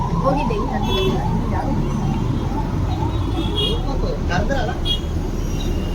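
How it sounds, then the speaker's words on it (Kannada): A wailing siren rises and falls over steady road traffic as an emergency vehicle passes, with people talking over it. "ಆಂಬುಲೆನ್ಸ್ ಹೋಗ್ತೈತೆ ಸ್ವಲ್ಪ ಗೈಸ್ ಬೇಗ"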